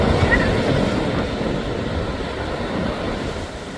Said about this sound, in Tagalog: dahil malakas ang alon.